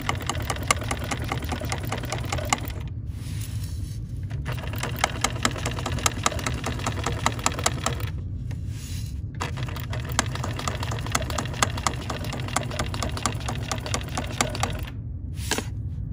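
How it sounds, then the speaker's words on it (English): A BERNINA sewing machine stitches through fabric with a steady, rapid mechanical chatter, loud and close, broken by a few brief stops before it starts running again; no voices. "I can sew in any direction I want."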